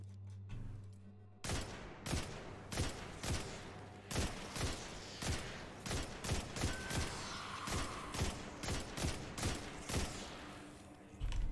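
Weapon fire in the video game Destiny 2, a steady rhythmic run of sharp, punchy shots roughly twice a second after a brief quieter start, each with a short mechanical tail, close and loud with no talk.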